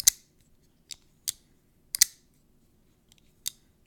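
Sharp, crisp metallic clicks from a folding knife with a double detent snapping open and shut, six or so separate snaps spaced irregularly over a few seconds, close up against a quiet background.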